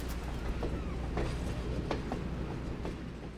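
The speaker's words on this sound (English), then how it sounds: "We first see the train backing out of the boarding area in Goshen" Steam locomotive backing a passenger train out of the boarding area at Goshen on the old C&O line, a steady rumbling roll with faint rhythmic clanks from the cars.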